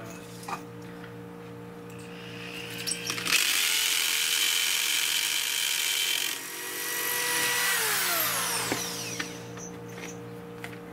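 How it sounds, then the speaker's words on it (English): A hammer drill driving Tapcon concrete screws during a basement window replacement whines loudly for several seconds, dips, then revs again before stopping, with a steady background hum. "And they have to be driven in with a hammer drill."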